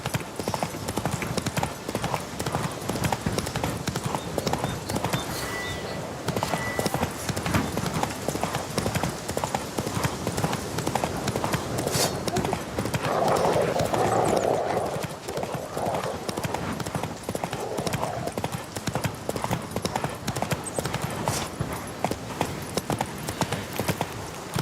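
Roach the horse galloping in The Witcher, a rapid continuous clip-clop of hooves close by, with a brief voice partway through.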